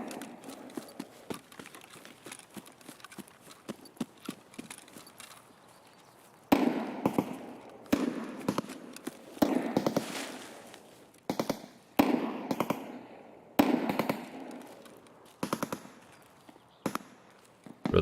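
Scattered sharp cracks of distant gunfire in the video game Escape from Tarkov pop at irregular intervals over a low background rumble, some shots coming in quick clusters.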